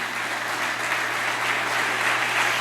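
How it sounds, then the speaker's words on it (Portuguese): Church congregation applauding during a sermon, a loud, even wash of many hands clapping with a steady low hum beneath, sustained without a break. "Aplaude ao Senhor."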